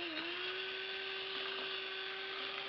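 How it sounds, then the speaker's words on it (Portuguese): Stand mixer beating eggs, margarine and sugar for a moist chocolate brigadeiro cake, a steady electric motor whir with a constant hum, faint and continuous, no voices. "Vou colocar os ovos na batedeira, a margarina, o açúcar e vou dar uma batidinha agora"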